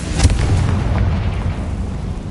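A Confringo fire spell explosion in Hogwarts Legacy: one loud, deep, rumbling boom with a sharp onset that settles into a lingering roar, heard alone and close.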